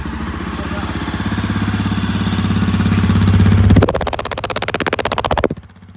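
A Honda CRF 250F dirt bike with a new aftermarket exhaust runs loud and near, a steady engine rumble swelling for about four seconds, then a sharper rapid popping burble before it drops away; no talk.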